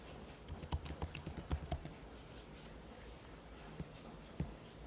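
Quiet typing on a computer keyboard while entering a brand name: a burst of irregular light key clicks in the first half, then a few isolated taps later, against soft room noise with no talking.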